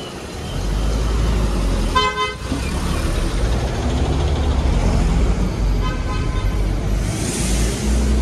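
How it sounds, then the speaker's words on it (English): Busy road in a Yangon township crowded with vehicles and taxis, with a steady roar of traffic and two bursts of car horn honking, one near the start and another later, over continuous engine rumble. "There are lots of vehicles and taxis here."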